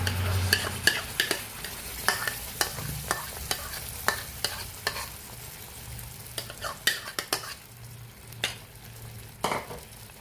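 Mango puree for halwa is stirred in a pan with a spoon, giving a quick, regular run of scraping strokes over a soft background sizzle, close and fairly loud.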